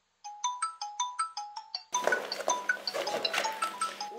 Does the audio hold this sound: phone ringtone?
yes